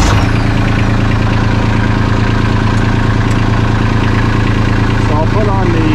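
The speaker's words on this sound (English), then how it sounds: "So let's get the tractor started." A Kubota tractor engine idles steadily at close range, a constant low, even rumble that holds through the whole stretch.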